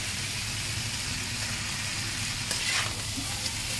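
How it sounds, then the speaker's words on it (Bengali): Paneer and pea curry stirred and fried in a pan, a steady close sizzle with soft scraping of the spoon, brief louder stirring movements near the end, no talk. "সুন্দর করে কষিয়ে নিয়েছি।"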